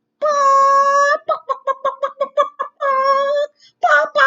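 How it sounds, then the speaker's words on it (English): A hen clucks close up in a short run: a drawn-out squawk, a quick string of rhythmic clucks, then more squawks, heard alone. "The hen."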